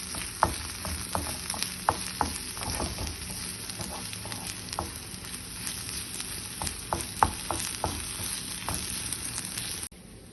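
Steady hot-oil sizzle of masala with garam masala and salt frying in a pan, with intermittent scraping clicks from stirring, close and continuous with no talking, then a sudden stop at the end.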